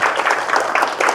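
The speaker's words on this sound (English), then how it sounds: "Let's give her a round of applause." Brief burst of applause from a meeting audience, a dense patter of many hands clapping at steady loudness with no break.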